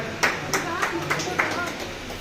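An audience claps in rhythmic bursts at a felicitation ceremony for senior Pyramid meditation masters, with about a half-dozen sharp, evenly spaced hand-clap peaks over a roomy background murmur.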